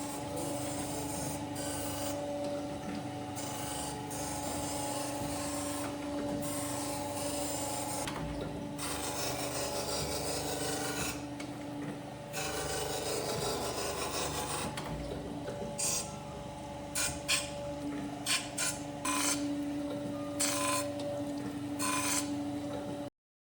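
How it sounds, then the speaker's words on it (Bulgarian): A BMW M57 diesel cylinder head being ground in a workshop, a long continuous abrasive rasping with a steady mechanical hum underneath, running for the whole stretch with short breaks near the end. "А сега да видим как се шлайфа."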